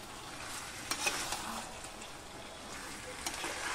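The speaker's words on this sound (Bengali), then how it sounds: "টমেটো পিউরি অ্যাড করার পরে আরও কিছুক্ষণ আমি মাংস কষিয়ে নেব 5 থেকে 7 মিনিটের জন্য" Chicken pieces sauté with tomato puree in a pan, giving a soft continuous sizzle broken by occasional scraping stirs, moderately faint and close.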